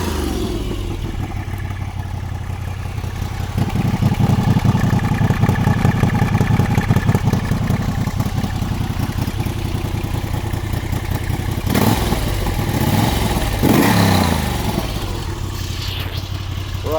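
A 2025 Moto Guzzi V85 Strada motorcycle engine idles with a steady throbbing pulse, then rises into louder revving blips with mechanical clatter, close and strong throughout.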